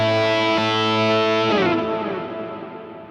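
An overdriven electric guitar holds a sustained chord, then a second chord rings out through reverb and dotted eighth delays, trailing off in a fading wash, with no talking.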